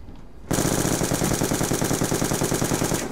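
A light machine gun in a video game fires one loud sustained burst of rapid, evenly spaced shots, starting abruptly after a short quiet moment and running to the end, close and alone.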